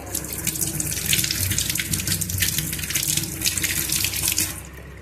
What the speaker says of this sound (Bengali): পেয়ারাগুলোকে ভালো করে ধুয়ে নিচ্ছে আগে, তারপরে কাটবো